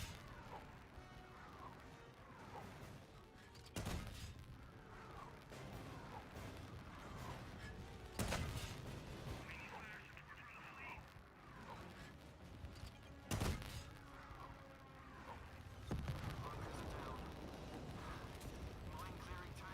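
Sherman tank main gun firing in a war video game, four heavy booms spaced a few seconds apart over a dense bed of battle noise, music and distant gunfire.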